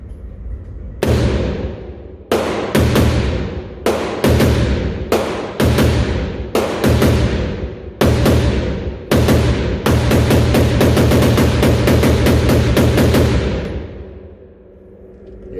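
A Sig M400 AR15 rifle with a Hiperfire Hipertouch competition trigger firing 5.56 rounds: loud, close sharp shots, first spaced single shots, then a fast steady string of rapid fire that ends with a fading echo.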